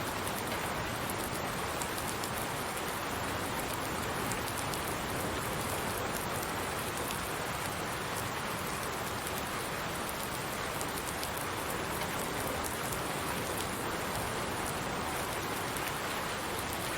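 Steady rain hisses without a break in a farming video game set on a custom farm with custom seasons. It is a dense, even wash of drops at constant loudness, with no voices.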